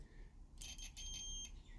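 Beep from a cheap $20 multimeter on a continuity test, a thin, high, wavering electronic tone that starts abruptly and then holds for about a second, faint and close, over low background hum.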